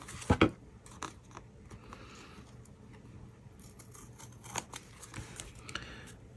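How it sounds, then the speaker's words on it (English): Scissors trimming protruding layers of paper on a folded curtain-style embellishment, a sharp close snip at the start followed by quieter scattered cuts and rustling paper. "So I'm going to just trim that off with my scissors."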